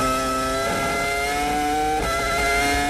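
A 2005 Formula 1 car heard onboard during a lap: a loud, high-pitched engine whine climbing steadily in pitch, with a brief dip at each upshift, close and continuous.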